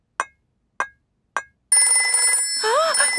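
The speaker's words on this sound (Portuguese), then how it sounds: "Ah, o telefone de emergências." An emergency telephone in the Peppa Pig cartoon rings with three sharp, evenly spaced bell-like tones, then a sustained electronic trill, followed by a cartoon voice speaking.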